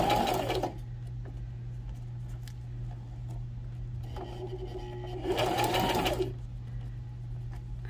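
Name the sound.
sewing machine sewing pleated napkin trim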